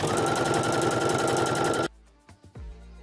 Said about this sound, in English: Now I'm gonna go and sew each one down to the edge.